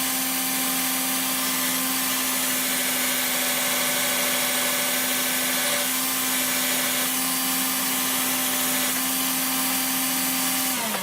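A mains-powered drill with a clamped screw spinning against a hand-held piece of emery, a steady loud motor whine that holds constant for about eleven seconds and winds down at the very end.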